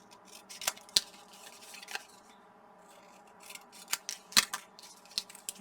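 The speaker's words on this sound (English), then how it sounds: "I'm going to cut the corners off" Scissors snip the corners off scored paper while making a flip flap book, giving a series of short, crisp cuts spaced irregularly over a few seconds, close and fairly quiet.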